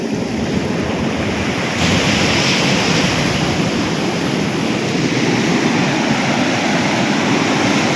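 Water from a natural spring in the countryside pours in a constant, full rushing wash, loud and close, with an even broadband roar and no voices.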